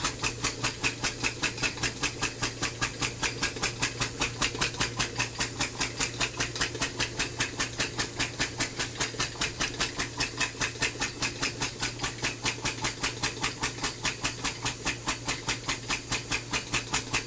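An air-powered engine running at low pressure, around 19 psi, puffing in a steady rapid rhythm of exhaust chuffs with an underlying hum, close and continuous throughout.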